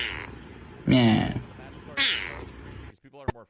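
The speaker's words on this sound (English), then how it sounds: "Meow." A cat gives two loud, drawn-out meows about a second apart over a low background murmur, followed by a brief voice at the end.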